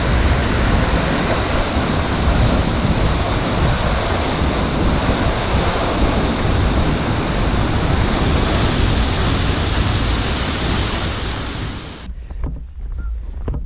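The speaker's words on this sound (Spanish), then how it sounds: "Esta catarata se alimenta del agua, del deshielo del Kilimanjaro" A waterfall fed by Kilimanjaro meltwater near the Chaga village of Materuni roars as a loud, unbroken broadband rush for about twelve seconds, close and overwhelming, before cutting off sharply near the end.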